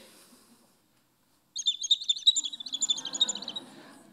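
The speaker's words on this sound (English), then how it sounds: "So there's a little hole right under the bird here, and it creates a little vacuum and whistles. And when you pour it, it makes a noise." A Japanese uguisu tokkuri sake carafe whistles as sake is poured, producing a rapid series of bright, warbling bird-like chirps lasting about two seconds, close and clear after a moment of silence, with a soft gurgle of liquid beneath.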